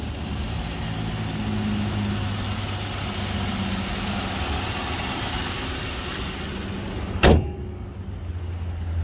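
A 2000 Nissan Maxima with a 3.0 V6 idles steadily with an even low hum, heard close up, before a single sharp thump like a car door near the end.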